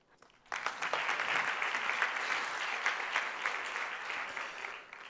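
Applause from a conference audience bursts in abruptly after a quiet moment, then holds as steady, moderately loud clapping with distinct individual claps before easing off at the end.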